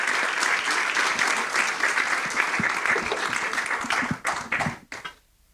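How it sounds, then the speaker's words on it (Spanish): Seminar audience applauding speakers Alberto Mayol and Hugo Herrera after their talk on security and economic investment. Close, vigorous clapping runs steadily, then thins into a few scattered last claps before falling silent. "le damos un gran aplauso a Alberto y a Hugo por su exposición"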